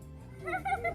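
Several schoolchildren's voices imitate a cat's meow in short, rising calls, three in quick succession, close by in a noisy room at a science centre.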